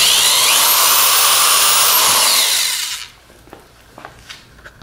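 A power drill bores a 3/16 inch hole through a trash can wall near the rim, a loud high-pitched whirring grind for about three seconds that stops abruptly, followed by faint handling clicks.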